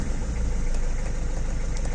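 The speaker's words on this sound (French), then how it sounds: "Et puis vous pouvez voir, elle va démarrer au quart de tour." A 1993 Citroën ZX with the 1.9 diesel engine idles close by, a dense, even rumble with a slight rhythmic clatter and no other sounds.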